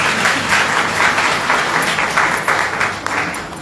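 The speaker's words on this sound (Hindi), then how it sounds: "तालियां कौन बजाएगा?" Audience applause at a women's government college event: dense, steady clapping from a crowd, fairly loud and sustained throughout without a break.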